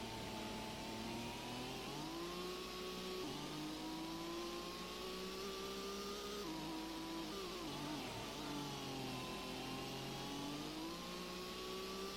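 Car engine in the Gran Turismo racing game on SS Route 11, revving and shifting steadily with rising and falling pitch, including a downshift into first gear, loud and continuous with no talk.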